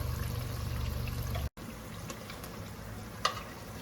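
Homemade churros bubble and sizzle in hot oil, a steady close hiss with a brief dropout partway and a small clink near the end, no voices.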